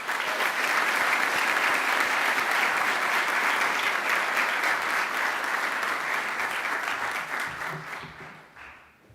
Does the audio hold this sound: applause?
yes